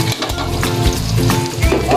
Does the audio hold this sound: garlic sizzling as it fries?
yes